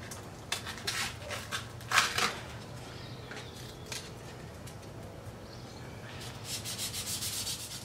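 An alloy wheel rim is hand-sanded with 180-grit sandpaper, giving quick back-and-forth rasping strokes in short bursts with pauses. The sound is close and fairly faint, with a faint bird cooing in the background.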